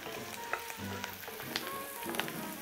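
Onion and carrot sauté in butter for potato soup, a soft continuous sizzle with light stirring clicks throughout, close and unaccompanied by talk.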